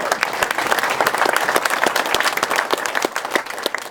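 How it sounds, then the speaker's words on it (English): A crowd claps steadily and loudly for a few seconds, with a dense patter of hands filling the room. "Give a round of applause to Dan."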